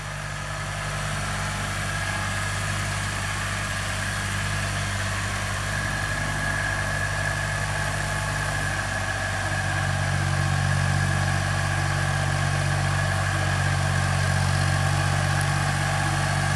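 A Ford 2000 tractor pulls a Dearborn plow through a food plot, its engine droning steadily at a low, even pitch with a faint whine above, constant and close with no voices.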